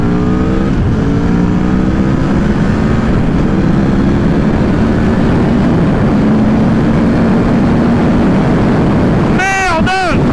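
Aprilia Tuono V4 motorcycle engine heard while riding, a loud continuous drone with shifting pitch that runs the whole time under wind, ending in a quick sharp rev.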